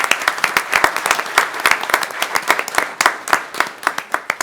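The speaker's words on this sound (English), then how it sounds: "Let's give them all a round of applause." An audience at a city commission meeting claps: dense, close, crisp individual claps in an irregular patter that continue steadily throughout.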